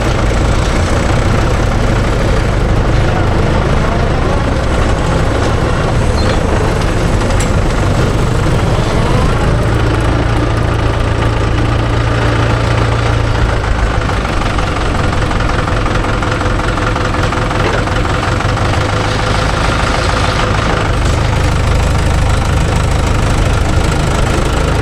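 A Mahindra Yuvo Tech Plus 585 4WD shuttle-gear tractor runs close by with a loud, steady, low diesel rumble and rough knocking vibration, holding unbroken throughout.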